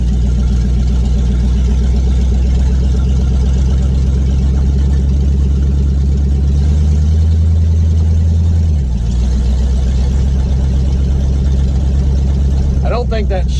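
A car whose downshift rod is not yet fully hooked up drives down the road, with a loud, steady engine drone close by and a brief dip in pitch midway, as though shifting.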